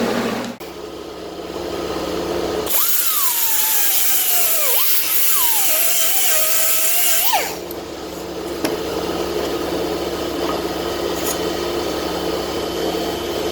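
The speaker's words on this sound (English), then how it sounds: "I'm going to grind it clean" An angle grinder whines hard over a welded cowl panel on a 1974 Dodge Charger, loud and continuous for about five seconds, its pitch sagging and recovering under load, framed by steady workshop hum before and after.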